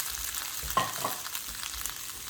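Chorizo and potatoes fry in a pan with a constant crackling sizzle, broken by a couple of sharp scraping stirs near the middle.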